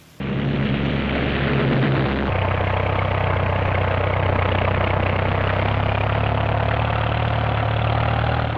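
Heavy bomber aircraft engines of the air war drone loudly and steadily, a dense propeller roar that shifts to a deeper, even tone after a couple of seconds and holds without talking.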